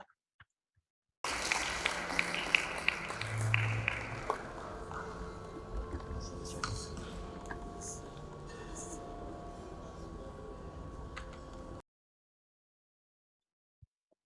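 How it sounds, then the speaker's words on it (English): Audience applause fills a business dinner at a directors' conference in Nigeria, a dense, steady roar of clapping that runs for about ten seconds before stopping abruptly, with a voice faintly mixed in. "another big round of applause for the lady"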